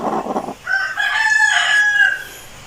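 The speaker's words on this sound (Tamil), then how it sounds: "இப்போ பாருங்கள், இந்த கோழிக்கு பக்கத்தில் போகும்போது எவ்வளவு கோவப்படுது பார்த்துருங்க." A brooding turkey hen on her eggs in a Tamil village gives a loud, harsh, drawn-out angry call when approached, preceded by a short burst of rough noise.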